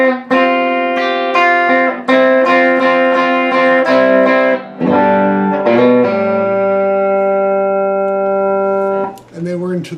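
An electric guitar plays the bridge lead of a song with a driven effects tone: a run of quick picked notes, then a long sustained ringing chord, close and unaccompanied.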